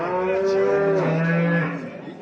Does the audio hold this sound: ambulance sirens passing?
no